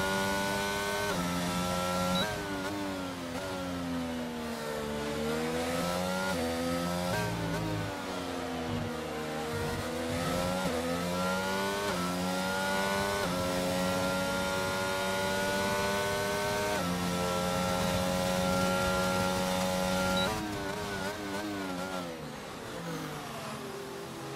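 An onboard race car engine in a racing game screams continuously at close range through an Austrian round, its pitch climbing and dropping repeatedly through gear changes and corners, with no talking.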